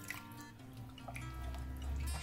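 Cornstarch-and-water slurry poured into tomato broth, a short close wet trickle with small drips and splashes, low and soft.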